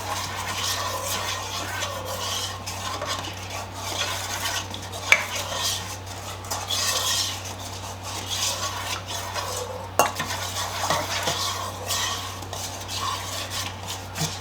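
Bread dough ingredients being stirred in a bowl for a cast iron loaf, a steady soft scraping and clinking of utensil against the bowl with a couple of sharper knocks, no voices.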